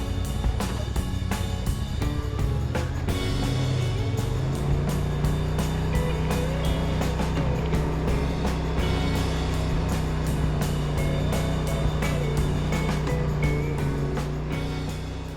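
A Honda Talon side-by-side crawls down steep rocky declines on a trail, its engine droning steadily throughout while sharp knocks and clatters from the rocks cut in repeatedly.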